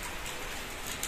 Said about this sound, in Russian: а у нас дождь